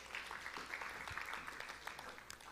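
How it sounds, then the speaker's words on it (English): An audience gives a round of applause during a talk, a quiet, fairly distant spatter of clapping from a modest crowd, continuing evenly for a couple of seconds. "Give him a round of applause."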